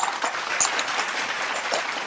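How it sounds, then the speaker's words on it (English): A group at a morning devotion gathering gives a short round of thank-you applause, a steady, even crackle of many hands clapping together at moderate volume. "So why not we give a thank you clap to our reflectors?"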